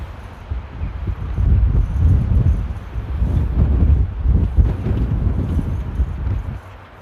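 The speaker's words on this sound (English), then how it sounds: "as you can hear, it is quite windy" Stormy wind at Amsterdam Airport on a cold day near the arrivals runway, blowing in uneven, rumbling surges that rise and fall against the microphone.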